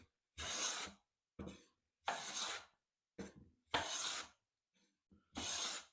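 Hand plane smoothing a wood surface, six distinct rasping strokes in an irregular back-and-forth rhythm, close and clear, with short gaps of silence between passes.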